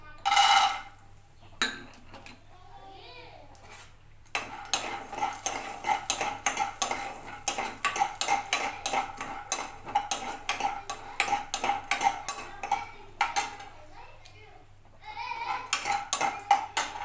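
Peanuts being dry-roasted in a pan for a dry-fruit laddu, heard as a steady stream of light rattling clicks and metallic scrapes as they are stirred, close and fairly faint.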